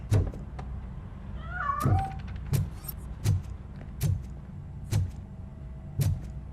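A cat in RoboCop: Rogue City gives a short meow amid a series of evenly spaced thumping knocks, close and fairly loud, with faint background hum.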